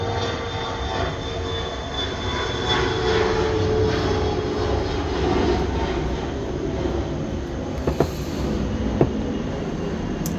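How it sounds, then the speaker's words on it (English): Airplanes passing overhead, heard from an open sunroom attached to a garage: a loud, steady engine roar that fills the whole stretch, with a few faint knocks near the end. "goodness with these planes."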